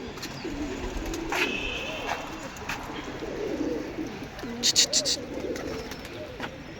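Soft, low cooing from a female pigeon rolls in short phrases under outdoor background noise, with people talking nearby and a few brief sharper sounds.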